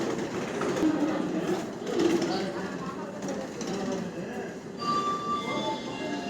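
A train pulls in at a railway station platform, arriving from Mysore: a steady broadband rumble and clatter, with a thin metallic squeal emerging near the end, heard amid crowd noise and murmuring voices.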